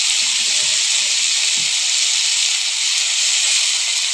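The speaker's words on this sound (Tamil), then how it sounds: "பாருங்கள் தக்காளி நல்லா வதங்கிட்டுருக்கு." Tomatoes and coriander leaves sauté in a hot pan for brinjal (kathirikai) chutney, giving a steady, loud, close sizzle throughout, with a few faint clinks near the start.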